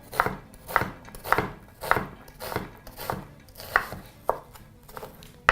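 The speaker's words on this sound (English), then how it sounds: "Slit through twice and proceed to chop once more" A knife chops onions on a cutting board in steady, evenly spaced thuds, roughly two strikes per second, close and crisp, with no voices over them.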